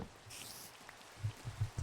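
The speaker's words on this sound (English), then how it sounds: "Oh, it's raining." Light rain patters down in Minecraft, with soft irregular drops tapping a surface and a few heavier low thumps near the end.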